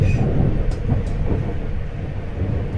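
A Greater Anglia train running into Stratford station in London: a continuous low rumble of wheels and carriage noise, heard from inside, loud and steady.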